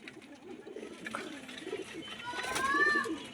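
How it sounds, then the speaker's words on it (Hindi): Pigeons of a home-bred flying breed coo softly in a loft, low throaty coos repeating under a quiet background, with a brief whistling chirp rising near the end. "ये देखो आप कबूतर"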